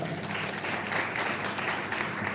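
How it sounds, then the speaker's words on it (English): An audience claps for a returning speaker at a live public address, a dense, steady wash of applause from a crowd. "Give him a clap."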